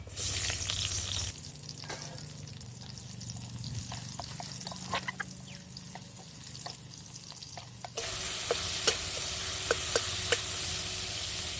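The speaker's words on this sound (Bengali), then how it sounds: "টমেটো ভালো করে ভাজা হয়ে গেছে" Tomatoes frying in a pan with green chillies and black cumin seeds, a soft sizzle with intermittent clicks and scrapes of stirring, growing louder and brighter partway through.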